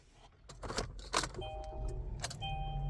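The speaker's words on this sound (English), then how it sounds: "And it starts the car immediately." Kia Optima started with a freshly cut, unprogrammed non-transponder key: a short jangle and click as the key turns, then the starter cranks briefly and the engine catches into a steady idle, close by.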